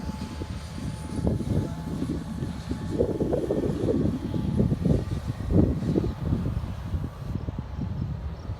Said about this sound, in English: Along with some more chopper activity behind it.